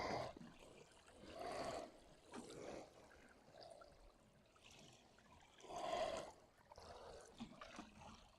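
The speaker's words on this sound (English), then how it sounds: "and then water that" Water poured from a can over a folded cardboard layer in a garden, a quiet trickling splash that comes in several separate bursts with pauses between them.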